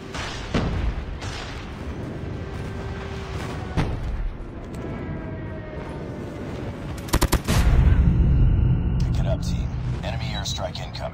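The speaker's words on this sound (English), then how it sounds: "Friendly airstrike incoming" Friendly airstrike explosions and gunfire boom through a video game battle, with a sharp burst of blasts midway followed by a heavy rumbling barrage while a voice speaks over the chaos.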